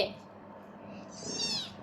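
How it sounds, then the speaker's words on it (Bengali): A cat meows once near a small child, a soft rising cry heard close, mixed with faint indoor background noise. "ওই ক্যাট আসছে ক্যাট মিয়াও"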